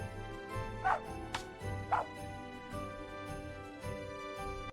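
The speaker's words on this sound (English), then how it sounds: "while the dog barks" A dog barks in repeated short bursts, faint and somewhat distant, over a steady musical background.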